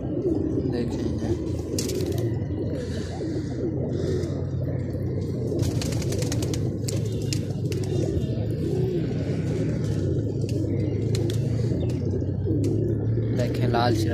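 Large set pigeons coo softly and continuously in a loft, their low murmuring steady throughout while someone talks over them nearby.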